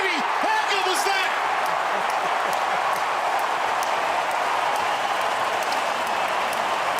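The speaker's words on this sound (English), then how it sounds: "they should all be applauding for Callum Mills's performance" A stadium crowd roars and applauds after a goal at a 2016 AFL match between the Sydney Swans and Western Bulldogs, a broad sustained wash of cheering with a commentator talking over it.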